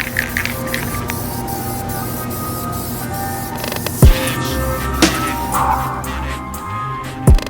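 Black Plasti-Dip is sprayed inside the barrel of a Vossen wheel from a Ferrari 458 in short hissing bursts over a steady background hum, with a few sharp clicks between passes.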